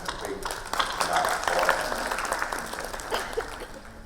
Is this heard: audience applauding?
yes